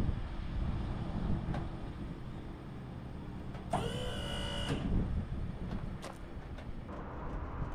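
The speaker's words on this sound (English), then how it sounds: "now it's dropping the trailer down even more" A hotshot trailer being lowered, heard as a steady whirring hydraulic or electric motor lasting about a second amid low rumbling outdoor background noise, followed by faint clicks.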